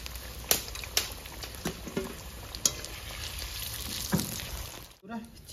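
Potatoes frying in hot oil for chicken biryani in a village kitchen give a steady close sizzle, punctuated by scattered pops and spatters and a few stirring knocks.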